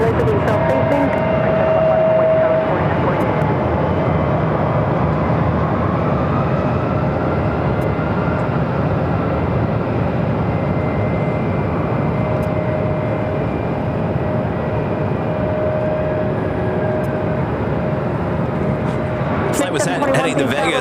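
A steady loud jet roar from an American Airlines A321neo airliner taking off from runway 7 left at Phoenix airport, sustained for about twenty seconds, with radio chatter over it.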